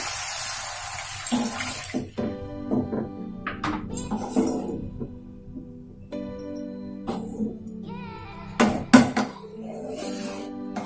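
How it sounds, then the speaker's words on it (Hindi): Water from a cup splashes into a hot pan of tomato masala for baingan masala, brief pouring and bubbling with clinks of utensils against the pan, close and moderately loud. "गोटे कप पानी देवी।"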